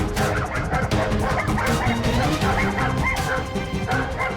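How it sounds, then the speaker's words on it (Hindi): A dog barks at street dogs outside a home: loud, close, repeated barks and yips in a rapid uneven series, with some whimpering mixed in. "ये तो गली के कुत्तों को देखकर भौंक रहा है"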